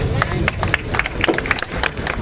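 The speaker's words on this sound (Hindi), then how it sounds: "एक बार जोरदार तालियां बजा दीजिए।" Audience at a celebrity appearance event in Hisar applauding, a dense wash of clapping hands with crowd murmur and voices mixed in throughout.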